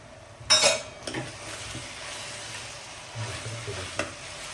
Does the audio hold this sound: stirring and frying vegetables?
yes